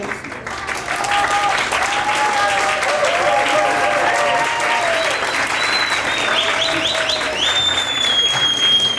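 Audience applause fills a room at a Latin American gathering on neural therapy and natural medicine, sustained steady clapping from a sizable crowd lasting throughout, with faint whistles or calls riding over it.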